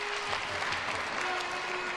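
Basketball arena crowd cheers and applauds steadily at a game, a dense, continuous roar of clapping and voices filling the hall from start to finish.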